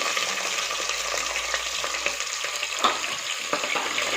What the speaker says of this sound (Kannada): ಈರುಳ್ಳಿನ ಸ್ವಲ್ಪ ಫ್ರೈ ಮಾಡಿಬಿಡೋಣ